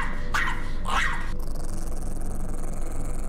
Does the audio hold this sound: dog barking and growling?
yes